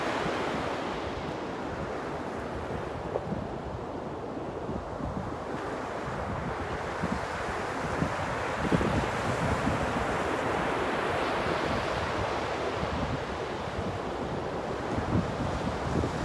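Steady ocean surf rolls and washes continuously, mixed with gusty wind rumbling across the microphone, with no voices.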